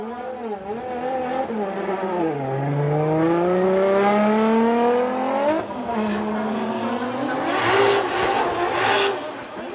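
Car 771 of Cusco Racing, driven by Hiroya Minowa, drifts on a wet Suzuka Twin Circuit, its engine revving hard and rising in sweeping climbs with sharp lifts and bursts of tire and spray noise, close and loud.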